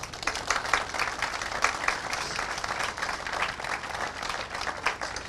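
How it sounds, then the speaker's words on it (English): Round of applause from a gathered audience at a Ramadan community dinner in Liverpool, steady dense clapping from many hands lasting throughout, moderately loud and without speech. "I want you to give Joe a round of applause in his absence"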